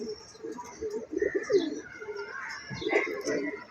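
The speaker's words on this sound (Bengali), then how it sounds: "এই অল্প কিছু কবুতর আছে পাল্লা টাল্লা দিয়া" Pigeons coo in a loft, soft repeated throaty calls overlapping one another at close range, with faint chirps mixed in against a quiet background.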